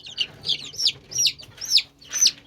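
A string of six high, shrill peeps from a black sultan chicken chick in a steady rhythm, close by and clear, with faint background hum and no talking.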